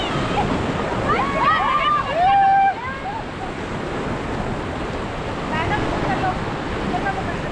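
River rapids rushing during whitewater rafting in Rishikesh, a steady broad wash of churning water with a brief louder surge near the start, while people shout and call out over it.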